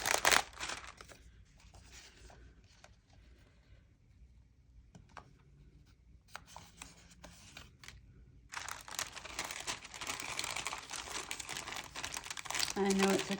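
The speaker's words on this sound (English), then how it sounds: "I know it's a crinkle crinkle sound, but I do like that sound." Sheets of wax paper crinkling in bursts at a craft table, quiet at first and then louder and denser toward the end, with a little talk in between.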